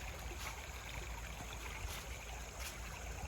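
Creek water at a trail crossing of Blackburn Run flows in a steady, broad rushing wash with a soft trickle on top, constant and close, with no talking.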